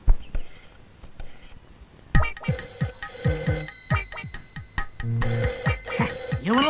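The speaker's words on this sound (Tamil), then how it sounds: "காலையில இருந்து ராங் நம்பர் ராங் நம்பரா ஏழு தடவை ஃபோன் பண்ணி" A telephone rings in a Tamil comedy film scene, a few sharp rings at first, then louder repeated trilling bursts that keep going to the end.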